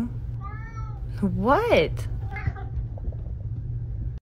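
A kitten meows in several rising, wavering cries, close and fairly loud, over a low steady rumble, while a person speaks briefly nearby.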